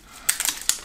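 Cardboard and plastic packaging for a GoPro Hero 7 Black action camera being cut open, heard as a few quick, close snipping clicks after a moment of near silence.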